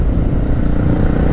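A 2022/23 Honda Grom motorcycle engine runs close and loud, a dense low rumbling drone held without a break.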